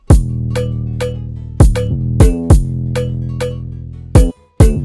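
Sharp snare cracks join a booming 808 bass and thumping kick drum in a loud, driving moombahton beat built in FL Studio, with steady rhythmic hits and no voices.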